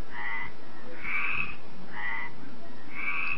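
A tree frog croaks in four evenly spaced bursts, each a short raspy pulsed call, close and clear over faint background with no speech.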